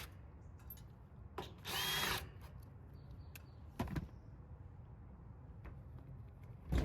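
Power drill removing screws along the bottom of a side panel on a Carrier rooftop HVAC unit, one sustained whir of about half a second, then a short burst, then a brief final buzz, over steady low background hum.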